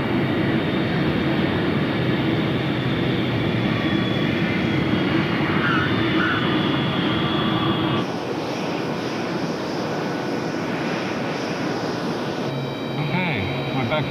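A T-38 jet aircraft comes in to land, heard as a loud, continuous roaring engine drone with a slight shift in tone partway through, like sound from the cockpit.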